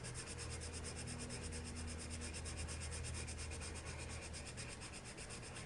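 A white Prismacolor colored pencil rubs back and forth over paper to burnish layered colors, a faint, close, steady scratchy rasp with quick repeated strokes.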